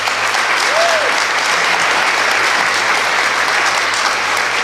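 Sustained applause from a forum audience in Selma honoring the daughter of Malcolm X and Dr. Betty Shabazz, a dense, even roar of many hands clapping throughout without a break.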